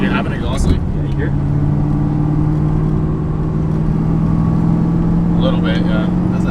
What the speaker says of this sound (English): You have an exhaust leak?